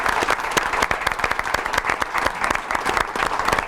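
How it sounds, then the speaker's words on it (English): A crowd at a school board meeting applauds student spellers, with brisk, dense clapping at a steady level throughout the short stretch. "One final round of applause, please, for all of our spellers."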